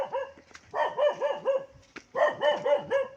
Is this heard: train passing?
no